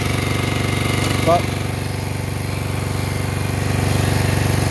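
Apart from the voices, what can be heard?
1968 Moto Guzzi V7 700 motorcycle engine idling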